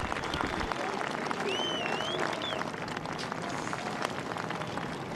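A golf gallery at the 2009 Open Championship applauding Tom Watson at the 17th, a sustained wash of clapping from a large crowd with faint calls and whistles mixed in.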